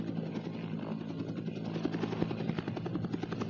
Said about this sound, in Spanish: El estruendo de las aspas del helicóptero lo llenaba todo.